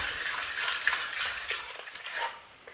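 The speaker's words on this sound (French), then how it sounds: "je rajoute les œufs battus en omelette dans ma préparation et je mélange sans arrêt" Beaten eggs stirred continuously into a creamy chicken sauce in a pot for mini chicken and almond pastillas, a close, steady scraping and swishing of the utensil that fades near the end.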